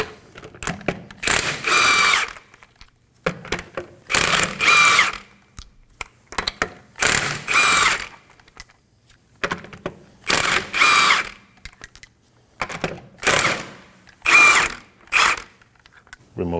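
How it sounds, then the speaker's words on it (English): Lug nuts are spun off a 2016-2020 Kia Sorento wheel with a 21mm socket on a power tool, six loud bursts of whirring about two seconds each, separated by short quiet gaps. "we're going to remove the lug nuts."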